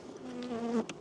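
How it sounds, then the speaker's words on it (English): Honey bees buzz close by during a mid-winter inspection of an apiary hive, a steady droning hum with a few louder passes near the end and no talking. "These bees are up top."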